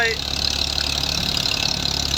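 A New Holland 480 tractor engine drives a threshing machine, a loud steady mechanical drone with a constant rumbling hum that runs unbroken.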